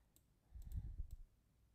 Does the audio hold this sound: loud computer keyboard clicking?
yes